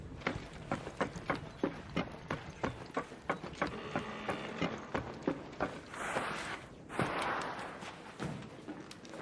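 Quick, regular footsteps in the Arc Raiders extraction shooter game thud close by at a steady jogging pace, then fade under a brief rushing whoosh near the end.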